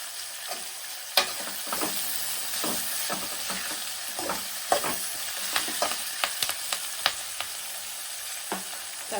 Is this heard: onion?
yes